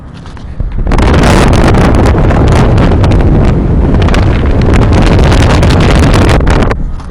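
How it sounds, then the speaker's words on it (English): Gusty wind at a high-rise building during window washing, a loud buffeting roar that surges in abruptly and pounds the microphone continuously before easing at the end. "Winds are a little gusty today."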